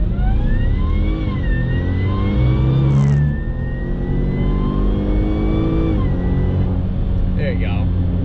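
A slightly modified supercharged Jaguar XF with a warm engine pulls hard from a standstill to 60 on a straight, flat road, its engine note climbing through several rising sweeps broken by gear shifts, loud and close.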